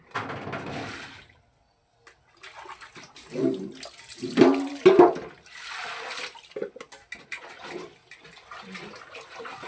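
Laundry being washed by hand in a tub of water, with irregular splashing, sloshing and wringing sounds rising and falling close by after a brief pause, no talking.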